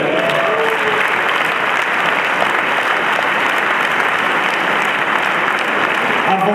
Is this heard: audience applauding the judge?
yes